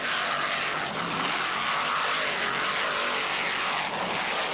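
A 46-foot Skater offshore racing powerboat with twin 900-horsepower Mercury inboard engines and MerCruiser drives roars steadily and loudly throughout a race, a dense, continuous engine drone.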